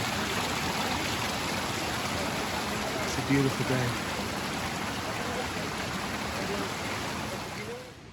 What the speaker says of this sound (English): drinking glacial water from a stream.